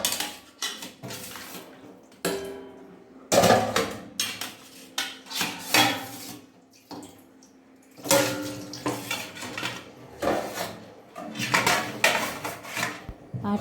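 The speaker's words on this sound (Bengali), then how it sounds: "থালাগুলো মাজা থাকবে, তাও একবার খাওয়ার সময় ধুয়ে নিই" Plates being washed by hand at home before a meal, with clattering dishes and cutlery in repeated bursts separated by short pauses, loud and close, with no talking.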